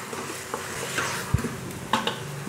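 Dhaba-style chicken curry is stirred in a pan, a low, constant sizzle with a few spoon knocks and scrapes against the metal.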